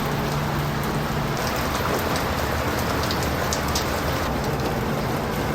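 Tropical rain pours steadily, a dense, even hiss of drops drumming on surfaces close by, constant in loudness throughout with no voices.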